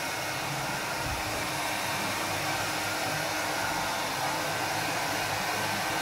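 Hair dryer running steadily at close range, blowing over freshly applied decorative plaster on a wall to dry it until cracks form, a continuous loud whooshing airflow with no speech.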